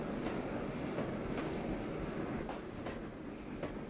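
Long train passing in the sidings in the game Trainz Driver 2, a steady rumbling roll with faint rhythmic clatter, continuous and fairly close without talk.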